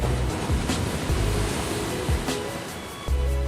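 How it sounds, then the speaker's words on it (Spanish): Ocean waves break against rocks in a continuous loud wash of surf, with occasional low thumps and swells rising and falling, and no talking. "el soroll de les onades que trenquen contra les... Roques"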